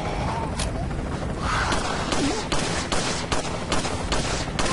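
Rapid bursts of video game gunfire in Resident Evil 4 Mercenaries, sharp repeated shots spaced in a quick irregular rhythm over a dense backdrop of game noise, with a voice faintly mixed in.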